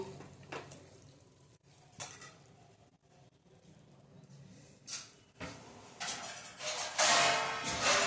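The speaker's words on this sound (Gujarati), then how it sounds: "હવે હલાવી લેશું થોડુંક અને ગેસની ફ્લેમ આપણે ધીરી કરી દેશું" A spoon scrapes and clatters around a pot of eggplant and potato curry on a gas stove, with irregular metallic knocks growing louder and busier toward the end, a faint sizzle beneath.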